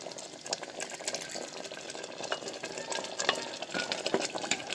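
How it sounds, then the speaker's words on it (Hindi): Oil in which onions were fried is poured into a cooking boti kebab mixture, giving a steady bubbling and crackling sizzle with scattered sharp pops, fairly close and continuous throughout. "और फिर हम ये जो हमने तेल में प्याज फ्राई की थी वो तेल भी हम इसी में डाल देंगे।"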